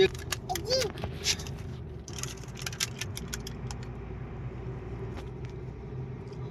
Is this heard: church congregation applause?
no